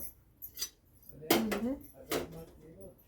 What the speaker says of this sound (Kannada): ಗ್ಯಾಸ್ ಹಚ್ಕೊಂಡು ಒಲೆ ಮ್ಯಾಗ ಕಡಾವಂಗಿ ಇಟ್ಕೊಳ್ಳೋದು